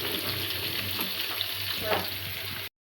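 Fish and prawns fry steadily in a pan, a continuous close sizzle with small crackles and pops that runs throughout before cutting off abruptly.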